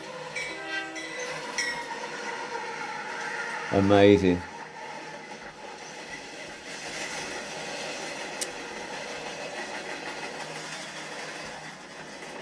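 A train on the Pacific American Railroad rumbles past with a brief loud horn blast partway through, over steady rail noise, with someone speaking briefly nearby.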